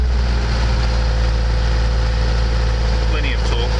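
A 1996 Mercedes-Benz LO812 minibus diesel engine runs close by with a steady, loud low drone and a rumbling idle throughout, plus a brief faint chirp near the end.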